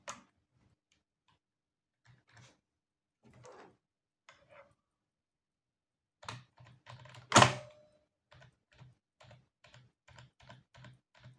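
Typing on a normal non-mechanical keyboard, soft scattered key taps growing into a quicker run of quiet clicks with one louder thunk, close and alone.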